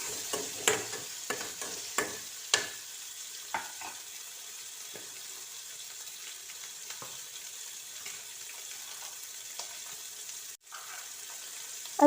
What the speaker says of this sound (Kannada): ಅದನ್ನು ಫ್ರೈ ಮಾಡ್ಕೊಳ್ತೀನಿ ಸ್ವಲ್ಪ.